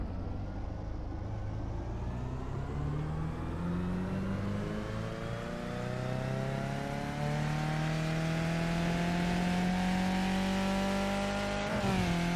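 A race car engine in iRacing climbs steadily in pitch as it accelerates through the gears on the VIR Grand West circuit, with a brief shift near the end, loud and continuous with no talking.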